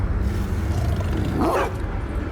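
A dog barks and whines in The Casting of Frank Stone, with a short yelping cry rising over a steady low rumble of background sound.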